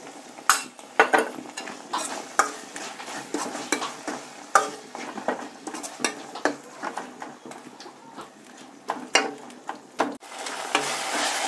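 Tomatoes frying with masala in a pan for a fiddlehead fern sabji, a steady close sizzle broken by repeated scraping and clinking stirs of a utensil against the pan.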